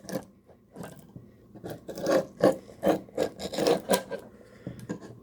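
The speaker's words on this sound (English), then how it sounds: "I'm going to clear the old caulk out of this one here on the outside." Old silicone caulk is scraped off a bronze portlight on a Nimble 20 sailboat in a series of short, uneven rasping strokes that quicken and grow louder, close by and with no talk.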